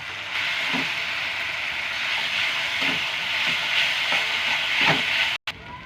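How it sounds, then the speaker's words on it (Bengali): Ginger garlic paste frying with melted tomato in a pan, a continuous loud hiss of sizzling oil with several soft stirring scrapes spaced through it. "এবার আমরা দিয়ে দেবো আদা রসুন বাটা। দিয়ে আমরা কিছুক্ষণ ফ্রাই করে নেব।"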